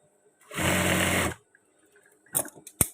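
A sewing machine stitching the pocket fabric and facing of long trousers runs in one close, steady burst of about a second, then falls silent before a few brief handling knocks and clicks.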